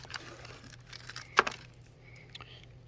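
Metal nuts rattle and clink inside a plastic bag as it is handled during an unboxing of a rear view camera kit for a Can-Am, brief close jingles with one sharper clack, fairly quiet in a still room.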